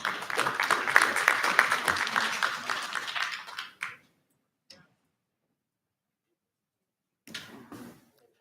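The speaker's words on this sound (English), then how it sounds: "Let's give them a warm appreciation of applause," Audience at a Tanana Chiefs Conference board of directors meeting claps for about four seconds, a dense steady patter that fades out, followed by near silence and a brief second burst of clapping near the end.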